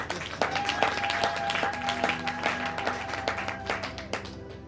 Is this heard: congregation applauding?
yes